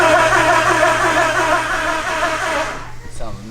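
A Mitsubishi EVO 9 with a 2.3 L stroker engine and a remanufactured starter cranks with a loud, steady mechanical drone up close, which drops away abruptly near the end.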